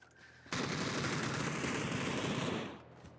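Sustained automatic gunfire from a video game battle on the Karakin map, a loud, dense burst of rapid shots lasting about two seconds before tapering off, with no talking.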